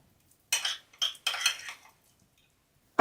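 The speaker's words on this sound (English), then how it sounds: "what I'm going to do is I'm going to mix it all together." A spoon scrapes and stirs lobster mixed with sour cream in a bowl, making three short, close scraping bursts that end in a light click, with quiet between them.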